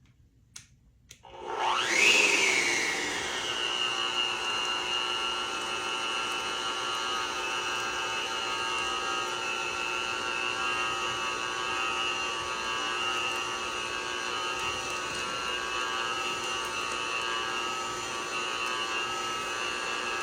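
An electric stand mixer, one that will not run on its high setting, beats a large batch of cake batter, starting with a rising whine and then holding a steady, close, even motor hum.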